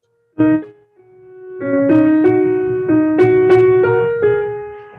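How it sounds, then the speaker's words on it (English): A short traditional Chinese pentatonic folk tune on piano, played note by note, one opening note followed by a simple stepwise tune with sustained, ringing tones, clear and close. "But it's a very traditional Chinese folk tune, which sounds like this since I have a piano."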